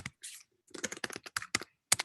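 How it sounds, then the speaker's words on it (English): Fast, furious typing on a computer keyboard picked up by an open microphone during an online town hall call, with quick clustered keystrokes in bursts and short pauses. "I hear someone typing furiously."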